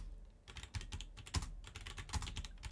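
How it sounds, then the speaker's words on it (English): Rapid typing on a computer keyboard during an Among Us proximity-chat game, a dense stream of close, clicky keystrokes with a few louder strikes standing out. "how loud is my keyboard? Furiously typing."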